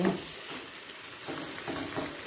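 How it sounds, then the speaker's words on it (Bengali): Egg batter fries in a pan, a steady crackling sizzle with soft stirring scrapes throughout, close and moderately loud with no voices. "এইভাবে পুরো ডিমের গোলাটাকে ভেজে নেব"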